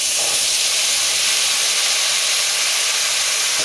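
A gas stove flame turned up gives off a steady, loud broadband hiss, close and unbroken for the few seconds, with no talking.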